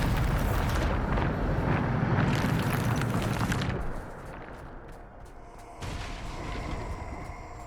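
A Bombarda explosion spell in Hogwarts Legacy bursts in a loud, rumbling blast that roars for several seconds, fades briefly, then a second crackling burst follows.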